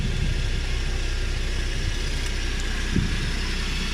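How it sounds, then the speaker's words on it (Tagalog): A Suzuki Every Wagon DA64W engine idles as it warms up, giving a steady, even, low-pitched hum with one brief bump near the end and no voices. "antayin lang natin na ma-warm yung ating makina"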